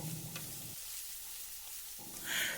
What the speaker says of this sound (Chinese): 接着我们把西兰花也倒在锅中，这里我们继续开大火，充分的翻炒均匀